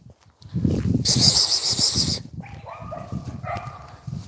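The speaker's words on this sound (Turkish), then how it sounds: "Bak bu da benim köpeğim." A dog whimpers and yips softly amid rustling movement in Seferihisar, İzmir, with a high-pitched squeal in the middle and a person speaking faintly nearby.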